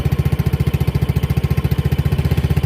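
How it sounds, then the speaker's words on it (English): A Honda Ruckus scooter engine idles roughly, a loud, close, rapid low-pitched chugging pulse that stays steady throughout, with no talking. "I need to pick the idle up a little bit, I think."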